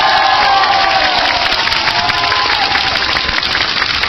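Loud applause and cheering from a crowd of supporters at a political rally marking a release, dense sustained clapping mixed with shouts and crowd noise throughout.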